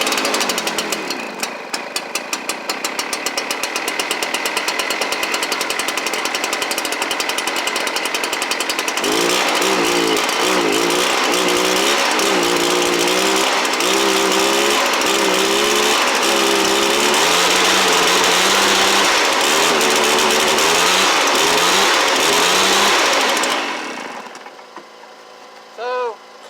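A Stihl BR430 backpack blower engine, fitted with a replacement carburetor, starts and runs loud and close, its note rough and sputtering with rising and falling revs before cutting off near the end.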